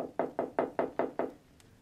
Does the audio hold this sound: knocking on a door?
yes